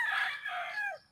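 A rooster of the cobra type crows once, near and loud, in a wet, stormy morning yard with no talk, its call trailing off into a short downward tail.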